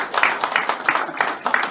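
Brief round of clapping from an audience at a medical association meeting, rhythmic and fairly close, with no talk over it.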